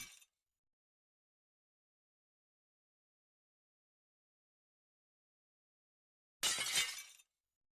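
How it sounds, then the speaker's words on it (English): Glass shatters in two brief, faint crashes, one like a breaking bottle and one like a plate glass window, separated by a long silence; game sound effects. "One sounds like a bottle. One sounds like a plate glass window."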